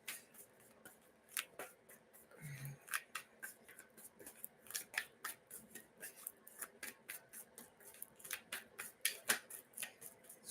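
Tarot cards being shuffled close by in a quiet room, a series of sharp, crisp riffling snaps and taps coming in irregular bursts, with a brief low thump partway through.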